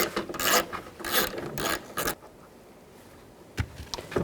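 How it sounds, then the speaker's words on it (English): A socket ratchet on a 10mm socket working the mirror nuts off a 2002-06 Chevy Avalanche door, giving several bursts of close, rapid clicking and rasping before a pause and a short final burst. "Take these 3 nuts out. Use a 10mm socket."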